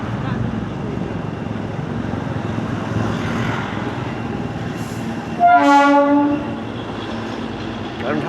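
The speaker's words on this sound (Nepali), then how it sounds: "माथि माथि जाँदैछ हाम्रो टोय ट्रेन चाहिँ है" The Darjeeling toy train climbs uphill on its narrow-gauge track and sounds a loud, sustained horn blast of about a second, rising over rumbling road and engine noise.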